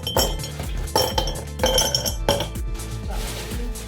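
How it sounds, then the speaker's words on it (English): Ice cubes clink and rattle into a glass while iced coffee is being made, with a few sharp bright clinks and a busier cluster of knocks, close and fairly loud, with no talking. "take a glass for the iced coffee. You will need ice"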